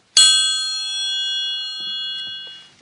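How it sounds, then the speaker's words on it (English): A triangle is struck once, ringing with a bright, shimmering metallic tone that sustains and slowly fades, with faint clicks near the end. "A triangle."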